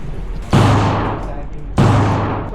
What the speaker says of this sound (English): I didn't shoot properly, bro.